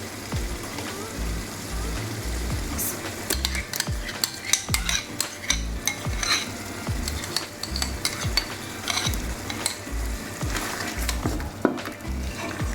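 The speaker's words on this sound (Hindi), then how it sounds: "पहले हम अपनी चिकन को टमाटर, दही और तमाम दूसरे मसालों के साथ अच्छे से भूनेंगे।" Chicken cooks down with tomato, yogurt and spices for biryani, a busy sizzle under constant stirring, with repeated scrapes and knocks of a spoon against the metal pot throughout.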